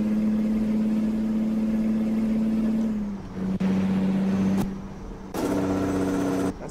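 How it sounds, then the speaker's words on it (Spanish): A Kenworth T800 double-axle truck in American Truck Simulator climbs a mountain grade with its engine droning loudly at a steady pitch, then dropping and surging again amid a couple of sharp air-brake hisses; no talking is heard. "Casi reviento el motor,"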